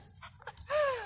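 A dog pants in quick, soft breaths close by, then gives a brief rising whine near the end; faint and short.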